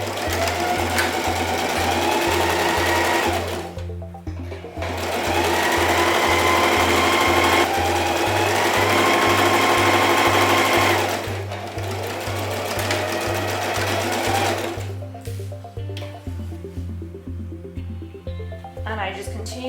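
A sewing machine chain-sews face masks in bulk, running in long rapid bursts with brief pauses between pieces, close and loud, while a person talks over it.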